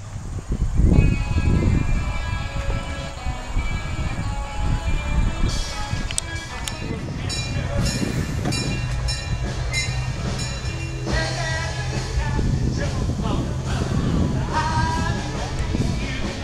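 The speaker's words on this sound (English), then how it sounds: "Here is the new train." An amusement park train at Lakemont Park in Altoona, Pennsylvania rolls past with steady rumbling wheels and metallic squeals, loud and continuous throughout as the cars go by close at hand.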